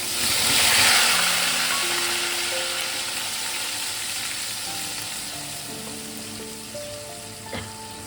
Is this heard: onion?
yes